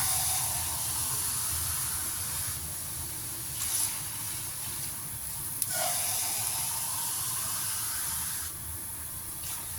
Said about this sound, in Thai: ใส่กะทิ ใส่น้ำ เติมน้ำเข้าไปจ้ะ